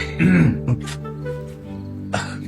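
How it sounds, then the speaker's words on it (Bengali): A man coughs and clears his throat a couple of times indoors during a Bangla drama scene, short rough bursts close to the mic, with no talk over them. "কাশি হয়েছে নাকি?"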